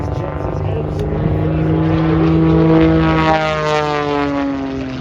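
A propeller plane at an Oregon air show drones loudly overhead, its engine pitch sliding downward as it passes close by.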